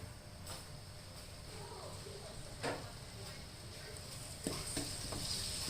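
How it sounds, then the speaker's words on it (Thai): Coarsely pounded chili and garlic stir-fry in oil in a wok for a Thai basil dish with mushrooms and minced chicken. A soft, steady sizzle runs throughout, broken by a couple of sharp utensil knocks. "ลงไปผัดค่ะ ผัดให้หอมก่อนนะคะ"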